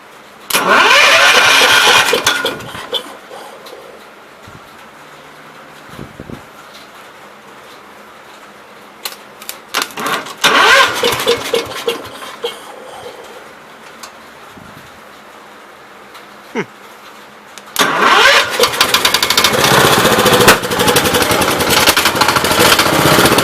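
A 1969 Gravely 432 tractor engine with a loose throttle shaft revs loudly up close, settles into a rougher, sputtering idle in the middle, then roars back up and holds steady to the end.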